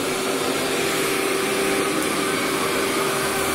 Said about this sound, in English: You got to let that brush and the vacuum work.